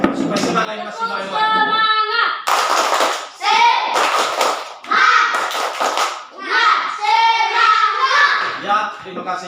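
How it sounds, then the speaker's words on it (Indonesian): Fifth-grade schoolchildren in a classroom lead a rhythmic spirit clap, bursts of patterned hand claps alternating with children's chanting voices, loud and close, in repeated short phrases. "Siapa yang bisa pimpin kita tepuk tangan semangat"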